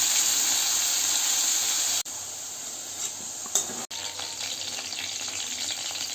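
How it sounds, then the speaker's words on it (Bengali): Continuous sizzling of pointed gourd frying in hot oil, close up, with a couple of brief clanks from stirring partway through. "অনেকটা ভাজা হয়ে গেছে, হালকা হালকা ভাজা হয়ে গেছে"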